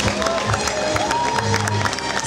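Audience applause and cheering fill the hall at a beauty contest gala concert, a loud continuous wash of many hands and crowd noise with a faint tonal musical line running beneath.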